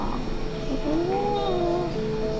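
A pet cat named Wali gives a single drawn-out, wavering meow over a low steady background hum.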